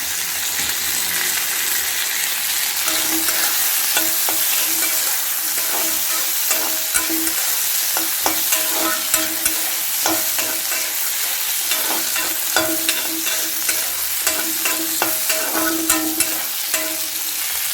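Roasted chillies sautéed in a pan for chana dal chutney, a continuous bright sizzle with frequent scraping stirs and metallic clicks of a spoon against the pan, close and steady, no voices.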